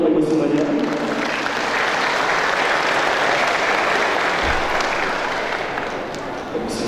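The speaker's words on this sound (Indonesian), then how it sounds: "Boleh tepuk tangan dulu Bapak Ibu semuanya." An audience at an indoor Ramadan gathering held by an Indonesian Islamic bank applauds in a sustained, fairly loud burst that tapers off slightly after about seven seconds.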